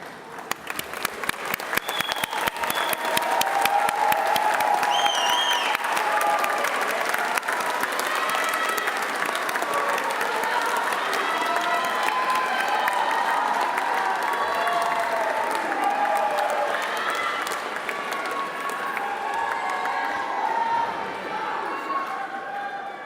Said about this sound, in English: offer a round of applause for your friends and family